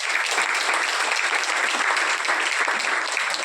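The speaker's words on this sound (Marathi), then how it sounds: "टाळ्या असे नाहीत वाजवायच्या," A conference audience claps in a dense, continuous burst of applause that holds steady and loud throughout, with no break.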